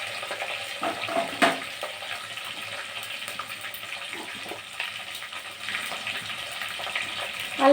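Curry leaves and chili tempering in hot oil for a Telugu gongura dal curry, a soft, steady frying hiss with a few brief crackling bursts, fairly close and without speech.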